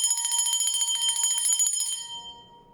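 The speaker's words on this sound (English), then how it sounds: "I'm gonna ring the bell for that 333 energy" A small bell is rung rapidly and repeatedly, giving bright, closely spaced metallic strikes. The strikes then stop and one clear ringing tone fades away, close and alone.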